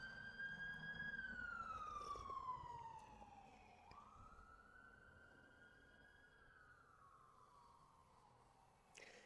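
An ambulance siren wails in long, slow sweeping tones, loud at first and then fading as it moves away, with no voices.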